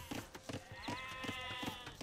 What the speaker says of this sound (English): The sheep of the Viper are very close into the town center